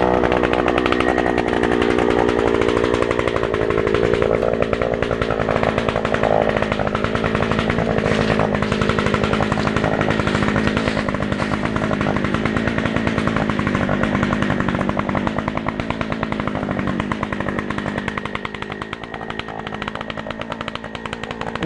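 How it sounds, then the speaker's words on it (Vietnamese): An Oshima gas-powered earth auger drills a hole in the ground, its two-stroke engine roaring loud and steady throughout with slight shifts in pitch as it bores, close by and without talk. "Rồi bây giờ chúng ta sẽ đi khoan thử."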